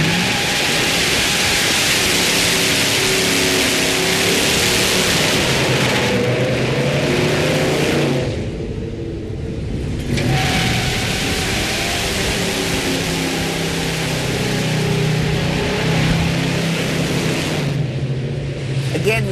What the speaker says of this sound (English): the automatic's at a little bit of a disadvantage, trying to get the tires to spin really hard